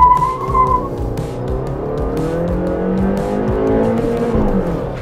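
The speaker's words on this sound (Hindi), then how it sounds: "अभी मैं गाड़ी चला रहा हूँ" An SUV climbs a hill road with its engine revving and shifting through rising and falling pitches, loud and close, with some tire noise in between.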